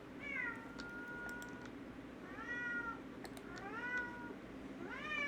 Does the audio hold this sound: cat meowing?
yes